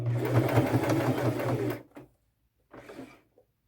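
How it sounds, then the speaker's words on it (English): A sewing machine runs in a fast steady whir for nearly two seconds while stitching fringe onto the edge of a bag, stops, then gives a short second burst of stitching after a pause. "I'm just starting to sew the fringe on here"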